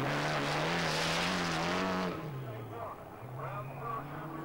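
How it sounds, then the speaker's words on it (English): A Mitsubishi Galant VR4 rally car with four-wheel drive and four-wheel steering is driven on a stage of the 1989 RAC Rally at Chatsworth House. Its engine howls loud and close, then drops to a lower, fading drone as it passes. "The Mitsubishi Gallant VR4, not only four-wheel drive like the Toyota, but with four-wheel steering as well."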